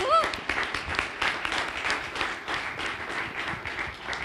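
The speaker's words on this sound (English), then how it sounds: "Can we all clap for him?" An audience applauding a chief guest speaker at a talk, a few seconds of moderate, fairly distant clapping from a crowd that fades slightly toward the end.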